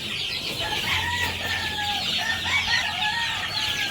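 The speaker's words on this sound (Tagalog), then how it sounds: "ito yung ating mga alagang sisiw. Gutom na gutom na." A flock of hungry pet chicks at a poultry farm, cheeping and peeping continuously in a dense, shrill chorus close by, with low clucking from older chickens underneath.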